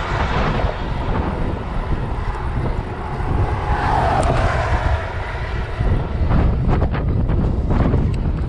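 Strong headwind buffets a GoPro microphone on a cyclist riding up a small hill, a loud, steady roaring rumble with gusty swells throughout and no voices.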